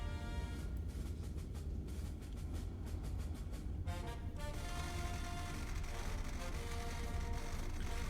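A train in a video game rumbles steadily with rhythmic clattering of wheels over the tracks, a continuous low roar throughout with a faint horn-like tone toward the end.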